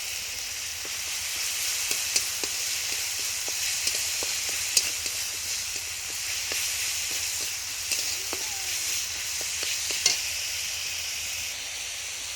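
Garlic and ginger paste sizzles steadily in a hot pan, a continuous bright hiss with occasional sharp pops and scraping stirs, close and even throughout, with a voice speaking faintly over it.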